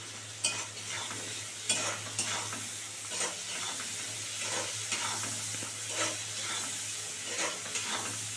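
Slit green chillies fry in a pan, a steady sizzle broken by repeated scraping stirs every second or so, close but fairly quiet, with a low constant hum beneath.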